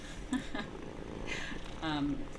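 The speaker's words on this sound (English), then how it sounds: "I was just seeing if you could hear me petting my cat while listening to you talk" A cat purring while being petted, a low, soft rumble heard faintly beneath ongoing conversation, with brief rustles from the petting.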